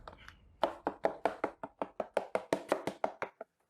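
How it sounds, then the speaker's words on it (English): Drywall knife chopping into joint compound in a mud pan, about fifteen sharp evenly spaced taps in quick succession, close and distinct in a quiet room. "So I'm using that chopping motion to mix up the drywall one last time and smooth everything out."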